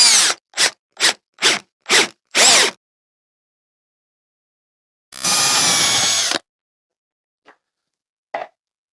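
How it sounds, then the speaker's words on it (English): Long drill bit boring through a Warlock-style electric guitar body, heard as six short rapid bursts, then one longer sustained grinding run, and a couple of faint ticks trailing off. "I've got this really long drill bit here. I'm going to aim for that, and I'm going to try to keep this from going through the front of the guitar."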